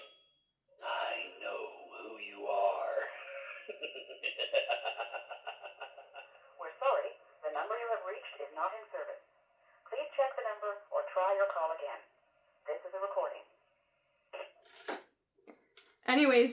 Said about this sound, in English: So it's just this animatronic phone.